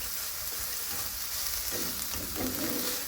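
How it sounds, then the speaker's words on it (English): Onions cooking down in a pan, a steady crackling sizzle with occasional stirring bursts toward the end, no voices. "The onions can be just cooking down just ever so slightly."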